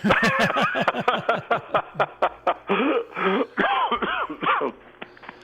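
A person coughs and clears their throat repeatedly in a rapid, raspy series of close, loud bursts with wheezy, strained tones.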